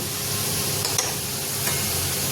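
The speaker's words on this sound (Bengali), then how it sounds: "মশলাটা ভালো করে ভাজবো।" Spices frying in a pan for a soybean and pointed-gourd curry, a dense close sizzle with a couple of sharp spatula scrapes and clinks as they are stirred, no talking.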